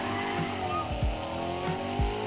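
A Corvette Z06 in the racing game Need for Speed Heat brakes hard, its engine drone steady while brief tire squeals and low thumps break through in short bursts.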